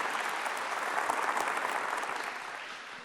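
Sustained applause from a large audience at a religious sermon, dense and steady, gradually fading toward the end with no voices over it.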